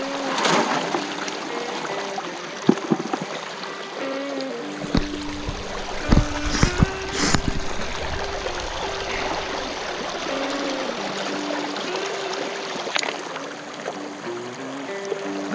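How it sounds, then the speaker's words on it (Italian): Water trickles and flows steadily into a swimming pool skimmer, a continuous close splashing rush with a few louder knocks and bumps, and no talking. "entra l'acqua, vedete, una volta che entra l'acqua è posto."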